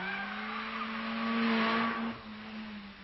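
A car takes a corner at high speed, its engine holding a steady drone while tires squeal briefly through the turn before the sound eases off; close and fairly loud, with no voices.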